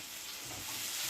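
Curry leaves hiss and sizzle in hot oil in a pan while okra fry is being made, a close, steady crackling that swells slightly toward the end.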